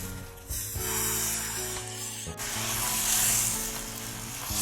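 Carrot dosa batter poured and spread across a hot tawa, a steady rasping, sizzling scrape that swells midway and continues close and unbroken, with no voices.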